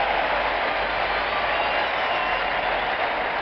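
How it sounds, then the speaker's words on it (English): Big baseball crowd roaring at a Red Sox–Twins game as Boston takes the field, a steady broadband wash of cheering and applause held loud and unbroken throughout, with no distinct voices standing out. "And the Red Sox take the field with a roar of this great crowd"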